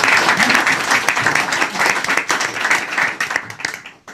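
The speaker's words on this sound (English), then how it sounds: "we're going to give a round of applause to Ashurst and to Philip for hosting today" Audience applause at a European debt finance and investment event hosted by Ashurst, steady dense clapping from a crowd that builds, holds for several seconds, then tapers off at the end.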